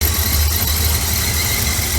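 A car engine fitted with a Holley carburetor and electric choke idles steadily and close by, a dense low rumble with a faint high squeal running through it, no voices.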